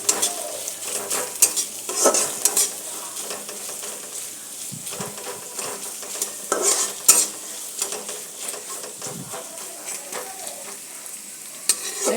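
Vegetables for egg chowmein fry with a steady sizzle while a utensil stirs and scrapes them in irregular bursts, close and clear, with no voices.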